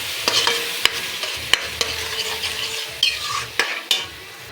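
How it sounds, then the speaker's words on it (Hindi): Okra masala with yogurt stir-fried in a pan, a steady sizzle broken by sharp, repeated spoon scrapes and knocks against the pan at an uneven rhythm, close and fairly loud, with no talk. "दही को अच्छे से हमें इसमें भुनाई करना है"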